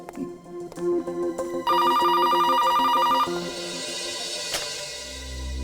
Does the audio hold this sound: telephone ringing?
yes